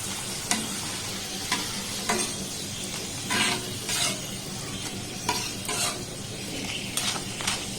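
Potato chips frying in hot oil, a steady close sizzle with bursts of crackle and occasional light clinks of a utensil against the pan, no talking.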